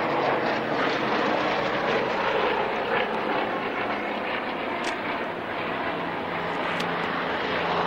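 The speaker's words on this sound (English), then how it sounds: "Two Spitfires taken off behind us." Two Spitfire fighters take off at the Duxford Flying Legends airshow, a steady, loud, broadband piston-engine roar that holds for several seconds with little change in level.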